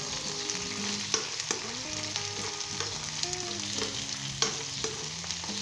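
Onions frying in a pan with potatoes and okra for a Punjabi curry, a steady close sizzle broken by repeated scraping knocks of a spoon as the mix is stirred.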